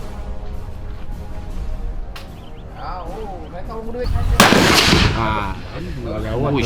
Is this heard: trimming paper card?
no